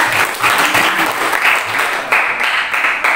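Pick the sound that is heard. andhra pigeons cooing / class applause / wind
class applause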